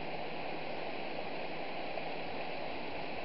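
A river flows under a bridge with a continuous, close rushing hiss, steady and unbroken, with no talking.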